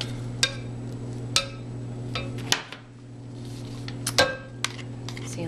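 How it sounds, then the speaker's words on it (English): Thick, set-up soap batter is stirred in a container, with sharp clicks and knocks of a utensil against the sides over a steady background hum. "Sometimes you can stir it down and it'll loosen up a little bit"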